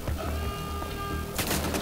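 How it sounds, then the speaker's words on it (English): Gunfire in Wolfenstein: The Old Blood crackles as quick repeated shots over a steady game background, with a louder burst of fire near the end. "I'm being shot at."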